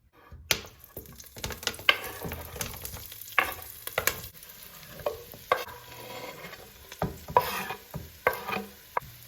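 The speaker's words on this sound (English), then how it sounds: "Just have a large pot on medium-high heat with some olive oil heating through, and I'm gonna go ahead and add in my seitan, onions, and garlic." Seitan, onions and garlic hit hot olive oil in a large pot over medium-high heat, bursting into a sizzle with repeated close clattering stirs and knocks as the pieces are moved around.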